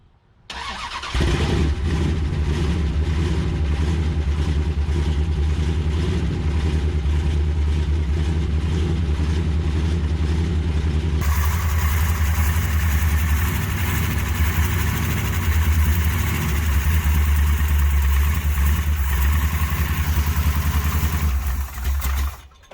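1973 Plymouth Satellite with a big-block Six Pack engine cranking, catching and then running loud and rough up close, with a lumpy idle that carries on for about twenty seconds.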